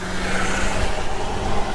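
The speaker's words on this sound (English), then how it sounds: "Damn, that car's fast." Audi A3 3.2 V6 accelerating hard in a race against an Audi S3, a loud steady engine roar from inside the car, brief and continuous with road rumble beneath.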